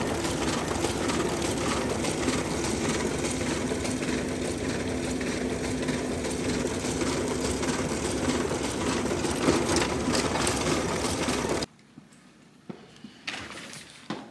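A school copy machine runs continuously, making a dense steady mechanical whir and rattle for about eleven seconds before it stops, followed by quieter handling clicks.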